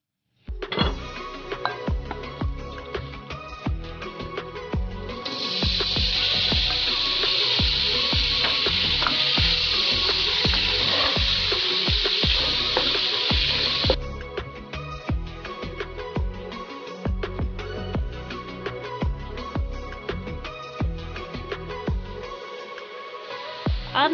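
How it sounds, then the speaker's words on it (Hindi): Minced meat sizzles in hot oil in a wok (kadhai) for a keema karela dish. A loud, steady hiss runs through the middle, with stirring scrapes and clatter before and after it. "यहाँ पर मैं कढ़ाई में ऑयल ऐड करके कीमे को भून लूंगी"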